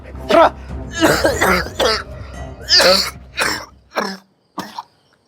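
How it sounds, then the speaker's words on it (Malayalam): A series of harsh coughs and throat clearing, close and loud, coming in uneven bursts with short pauses between them. "നീ ചുമക്കണ"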